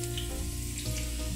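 Battered shrimp tempura deep fries in hot oil, giving a steady close sizzle and crackle with no talking.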